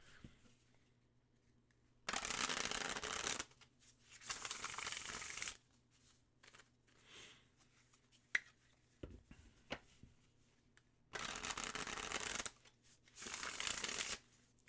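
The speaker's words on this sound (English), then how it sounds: "So I can get a proper shuffle here." A deck of matte laminated tarot cards is shuffled in four crisp riffling bursts, close and fairly quiet, with soft handling taps between them.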